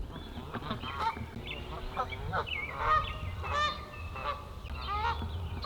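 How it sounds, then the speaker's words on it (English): A flock of geese honking repeatedly at a lake, overlapping calls near and far over a low background rumble. "Can you hear the geese being all noisy?"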